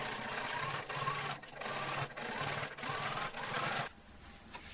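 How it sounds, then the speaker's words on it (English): A sewing machine stitches steadily along the turned-under edge of jeans fabric, running in several continuous bursts with brief pauses between, fairly close and loud, with no voices. "Machine along this edge."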